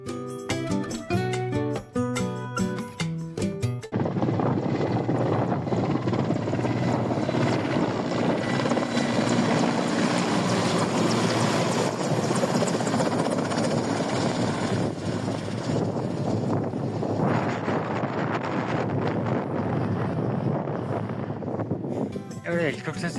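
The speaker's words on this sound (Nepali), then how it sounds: "एउटा हेलिकप्टर चाहिँ कस्तो नजिकबाट गयो" A helicopter passes close overhead on the Everest Base Camp trek near Namche Bazaar, around 3,775 metres up, its loud, steady rotor roar filling the air after a brief musical opening, with voices faintly underneath.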